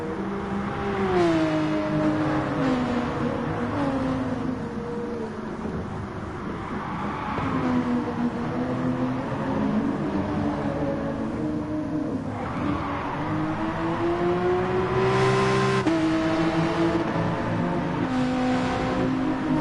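Race cars, a Toyota and a Beetle, lapping a circuit with engines droning and revving up and down continuously, pitch rising and falling through corners and straights, steady and fairly loud throughout.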